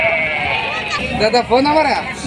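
Sheep bleat at the Pebbair livestock market: a few close, wavering bleats rising and falling over a steady murmur of crowd voices and market noise.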